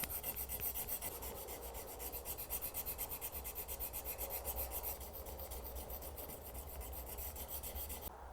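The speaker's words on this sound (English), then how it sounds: "With the grinding stones, I'm going to polish these lines out." A lubricated knife blade clamped to a board is worked with a polishing stone, giving a steady, rhythmic rasping rub of quick back-and-forth strokes, close and continuous with no talk.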